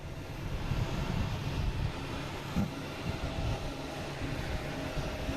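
A JetBlue airliner near Frankfurt rumbles as a steady, broad low-pitched roar with no voices, a continuous engine wash that holds even throughout with only slight swells.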